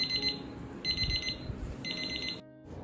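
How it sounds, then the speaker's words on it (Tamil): A kitchen timer alarm rings in three bursts of bright repeating electronic beeps, each lasting about half a second, separated by short gaps, then stops abruptly. "ஒரு அலாரம் மாதிரி ஒரு டைமர் மாதிரி இருந்தால் நல்லாயிருக்கும்"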